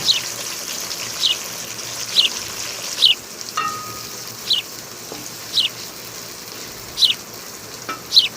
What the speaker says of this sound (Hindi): अब मैं इसमें प्याज शामिल करने लगी हूँ। प्याज़ों को भी अच्छी तरह भूनना है।